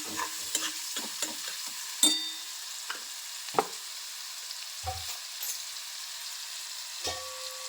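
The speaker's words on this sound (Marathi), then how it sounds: "फ्राय करून घ्यायचं" Onion and spices for spicy matki usal fry in a pan while being stirred, with a faint background sizzle and scattered soft scrapes and clinks of the spoon against the pan.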